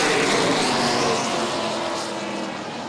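Late model stock cars roar around a racetrack as the field takes the green flag, a loud, dense engine drone that fades slightly as the pack moves away, with no talk over it.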